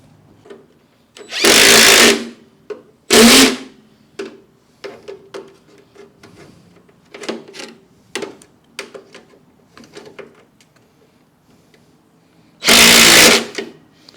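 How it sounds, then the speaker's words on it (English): A power drill bores a hole in a part from a free lawn mower, whining in three loud bursts: two close together early on and one more near the end, with quieter clicks and handling noises between them. "And drill a hole."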